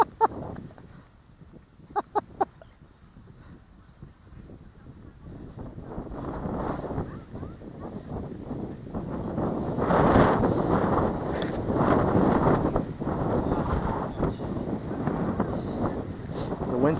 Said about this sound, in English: The wind started blowing right when you hit, huh?